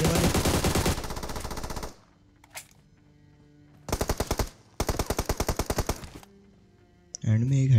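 Automatic gunfire in the video game PUBG, heard as long rapid bursts of loud, close shots broken by short silences, with a voice briefly at the end.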